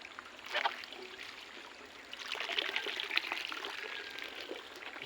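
Strong flow of water gushing through an enlarged hole, a steady broadband rush that swells louder halfway through and keeps pouring with no talk over it.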